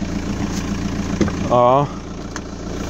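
A warmed-up vehicle engine idles, a steady low rumble throughout, with a short spoken exclamation over it partway through.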